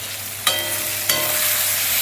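Bay leaf, dried red chilli, fennel and cumin tempering in hot oil for a potato curry, a steady close sizzle with two sharp crackling bursts as the spices hit the pan.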